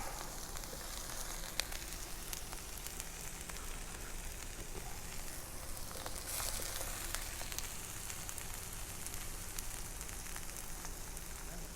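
Large onion pieces sizzle steadily on a hot griddle, a dense, even crackle and hiss that holds at moderate loudness throughout, with a few sharper pops standing out.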